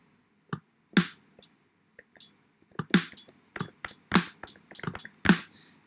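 GarageBand Neo Soul acoustic drum beat preset, a loose, sparse groove of soft kick and crisp snare hits with light cymbal ticks in an irregular laid-back rhythm, heard alone.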